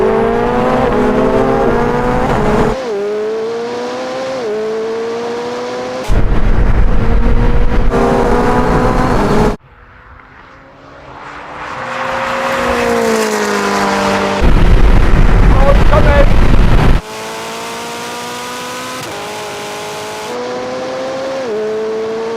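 A McLaren and a Ferrari, one of them a 1,115 hp supercar, accelerate flat out in third gear from 50 mph over a half mile. Loud engines rise in pitch in long pulls, with gear-like breaks and a quieter passing lull partway through.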